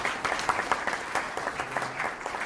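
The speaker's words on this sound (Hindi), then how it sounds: "मैं चाहूँगा एक बार जोरदार तालियां उनके लिए भी आप बताएं।" Audience claps together in a hall at a Hindi literature award ceremony in Canada, a steady burst of moderately loud applause throughout.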